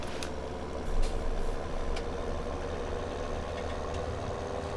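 In Farming Simulator 17, a Fendt tractor engine rumbles steadily as heard from inside the cab, a continuous low drone with a few faint clicks and knocks over it. No one speaks.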